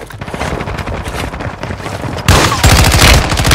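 Rapid automatic gunfire in a video game, dense bursts of shots that grow heavier and louder in the final second, close and continuous with no voices.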